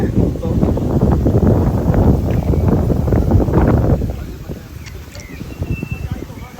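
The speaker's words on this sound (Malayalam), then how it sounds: "നല്ല കാറ്റാണ്." Strong wind buffets the microphone with a loud, rough roar for several seconds, then eases off, leaving quieter outdoor sounds, birdsong and some voices, in Adelaide, Australia.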